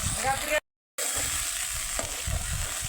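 Tempering spices sizzle and crackle steadily in oil in a pan for dhokla, with a brief silent gap partway through and occasional stirring clinks.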